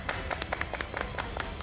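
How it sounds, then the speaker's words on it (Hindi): A studio audience on a Hindi TV serial set claps in a short burst of scattered, fairly quiet hand claps, with several distinct slaps landing in quick uneven rhythm. "तालियां तालियां।"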